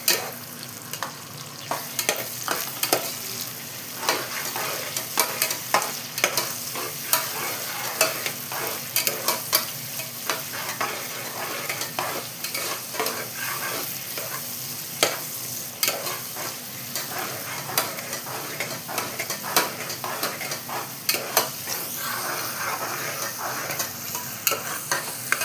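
Tomatoes fry and get stirred in a pan for a Kongunadu-style mutton biryani, with a steady close sizzle and frequent scraping and clinking stirs all the way through and no talking.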